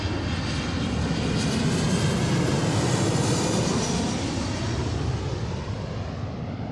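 An Alaska Airlines Boeing 737-900 jet arriving on runway 34L at Seattle, its engines a steady, loud broadband roar that holds through the whole stretch with no talk over it.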